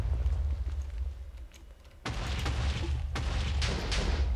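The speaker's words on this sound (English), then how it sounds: "Oh, the lovely sounds of explosions as I return home." Explosions in the video game Agrarian Skies 2: a low rumbling background, then sudden loud booming blasts, one about midway and another shortly after, followed by crackling bursts.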